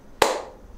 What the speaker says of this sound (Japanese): 自分のこの口のカウントとパチンという手拍子が交互に来る感じ